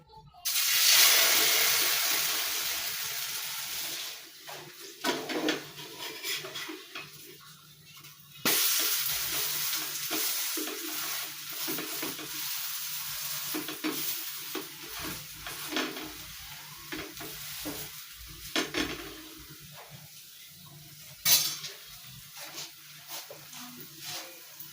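Batter poured onto a hot pan with ghee sizzles steadily for about twenty-five seconds, with a loud hiss at the start, scraping and stirring clicks throughout, and brief pauses.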